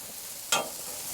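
Burgers are flipped on a charcoal grill: one quick scrape and flip, then a brief burst of sizzling over a soft, steady background hiss.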